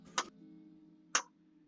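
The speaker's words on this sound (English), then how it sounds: "of sounds of the 4 simultaneous massive clocks at the very top of this arena" Two sharp, evenly spaced clock ticks from massive clocks, used as a tabletop session sound effect, sound about a second apart over a faint low hum, clear and fairly close.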